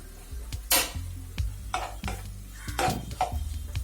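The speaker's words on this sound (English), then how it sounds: "Mix it properly." Spoon stirring chicken with ginger in a pan for KFC-style chicken rice, a run of close, irregular scrapes and clinks against the cookware with faint sizzling underneath.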